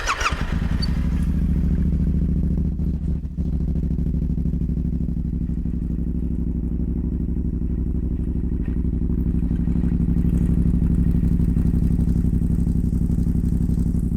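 A hot Yamaha Tenere motorcycle engine fires up and settles into a steady, loud idle. It runs close to the listener with a continuous low throbbing rumble and no talk over it.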